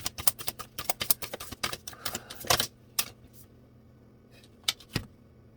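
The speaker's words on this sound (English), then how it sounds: "I'm going to go ahead and pull one more card" A tarot deck is handled as a card is drawn and several others fall out: a quick burst of crisp papery flicks and snaps, then quiet, then a couple of isolated snaps.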